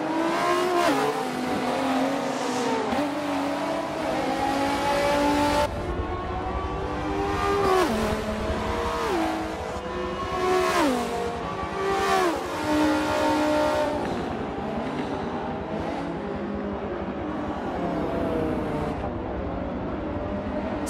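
A race car engine in a Forza 7 race at Circuit de Catalunya screams continuously through the gears, pitch rising and dropping with each upshift and braking, loud and close for the whole stretch with no voices over it.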